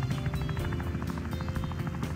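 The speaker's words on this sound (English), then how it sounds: "Let's use this helicopter." A helicopter in the video game Wobbly Life, its steady rotor chop and engine drone running loud and continuous throughout with a pulsing beat.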